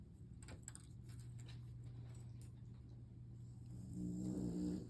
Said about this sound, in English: excuse my dog snoring